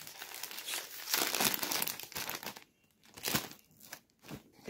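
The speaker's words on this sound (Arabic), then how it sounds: "نفتح الكيس رقم 6" A plastic Lulu Puffs snack bag is torn open and handled up close, producing loud crinkling and crackling bursts in irregular bursts with short quiet gaps between.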